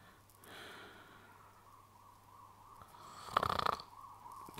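A person snoring in their sleep, a steady low rumbling drone through most of the clip that swells into one louder, rasping snort near the end, close and alone with no talk.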